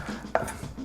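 A single sharp knife chop strikes a cutting board during prep of sweet potato hummus, one crisp cut standing out against quiet kitchen background, with faint lighter taps after it.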